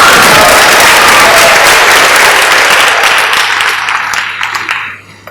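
Loud audience applause at a graduation ceremony, a dense, sustained roar of many hands clapping that gradually fades away toward the end.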